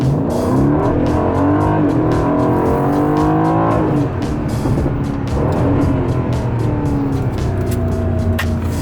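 An Aston Martin engine revs hard and loud, pitch climbing and dropping through gear changes, with sharp crackling pops and bursts throughout.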